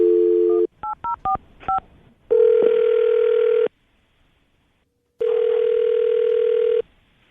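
A telephone call for a morning radio show: a steady tone, a quick burst of keypad dialing beeps, then two long, loud ringing tones separated by silence.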